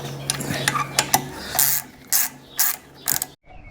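A ratchet clicks in quick bursts while clutch spring bolts are tightened on a Kawasaki ZZR250 motorcycle, close and fairly loud, with several separate runs of turning and short pauses between them.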